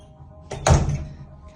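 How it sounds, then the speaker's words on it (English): A hotel room door at The Cosmopolitan Las Vegas swings open and shuts with a single solid thunk, close and fairly loud over quiet room tone, with a faint rustle before it. "It's a magic door."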